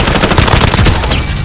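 Rapid automatic gunfire from a battle royale video game, loud and continuous with dense bursts throughout, no talking over it.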